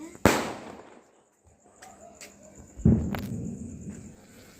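A Sivakasi Century two-sound firecracker going off during outdoor testing: a sharp loud bang, a quiet pause, then a second burst with a rumbling tail.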